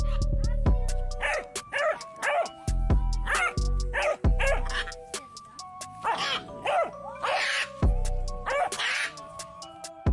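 A dog barks and yips repeatedly in loud, close bursts, squaring off against a bird in a scrappy confrontation, with a voice heard in the background.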